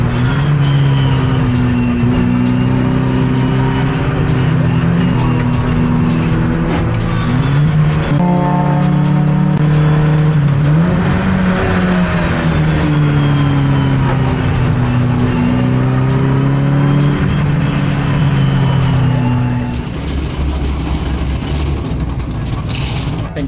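Faster race cars lap and overtake a Mini on a circuit during a Mini championship round in Xiamen, China. Loud, steady engine drone from close inside the car, pitch rising and falling with shifts for over twenty seconds, then easing near the end.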